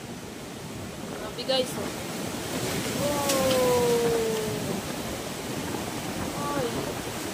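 Ocean waves surge onto the shore near a beach hut and barrier, a steady, loud, wind-blown roar that swells and recedes, while people speak and exclaim.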